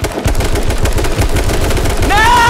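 Rapid automatic gunfire from the H1Z1 video game rattles loud and continuous, a dense stream of shots, with a rising electronic tone entering near the end.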